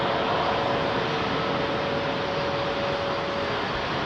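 Qatar Airways Airbus A380 at London Heathrow Airport, a broad steady jet engine roar with a faint whining tone, constant and fairly loud throughout.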